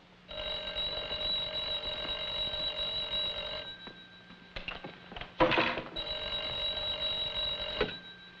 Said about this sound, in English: Kovac, answer the phone.